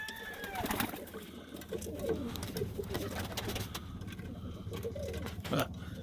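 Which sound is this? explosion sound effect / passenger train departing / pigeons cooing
pigeons cooing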